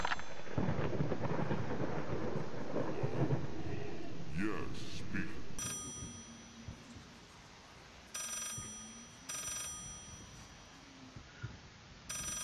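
A phone rings somewhere below in the horror game Layers of Fear, in bursts of high metallic ringing that come and go over a rumbling storm, with someone talking in the first half.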